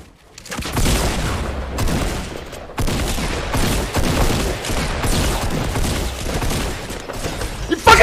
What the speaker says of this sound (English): 26 shotgun blast! With the stupid blue shotgun!